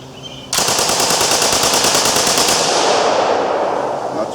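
Sustained rapid automatic gunfire from a firearm shooting at a nearby target at close range, a loud continuous burst of shots lasting several seconds before the magazine runs dry, with no talking.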